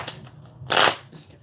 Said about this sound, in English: Get the card shuffled